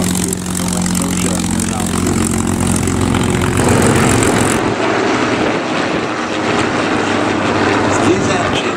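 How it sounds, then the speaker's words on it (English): A biplane's propeller engine, driving a two-bladed fixed-pitch wooden propeller, drones loudly and continuously at an air show, its low throbbing hum shifting partway through. "These engines were bolted to wooden propellers, fixed pitch propeller, which were two-bladed"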